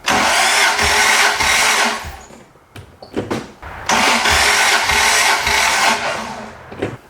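A truck's six-cylinder engine cranks over with its oil drained during a compression check, making steady starter-driven churning in two long bursts separated by a brief lull with scattered clunks, close and loud with no talking.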